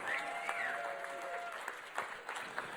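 Crowd applause for a team at the F1 in Schools World Finals reaction-racing event in Singapore. Steady, moderately loud clapping fills a large hall for nearly three seconds, with a faint tone drifting in the background.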